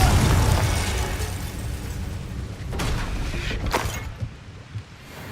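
A Confringo spell explosion in the Hogwarts Legacy video game, a loud booming burst that decays into a rumbling tail, followed by a couple of sharper crackling pops, with no talk.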